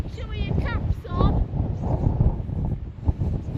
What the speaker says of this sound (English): Your cap's gonna fly off because it's very windy.